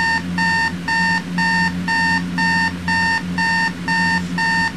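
Panasonic RC-6050 clock radio alarm beeper sounding loud and close, about ten evenly spaced electronic beep bursts in a steady repeating pattern with no talking.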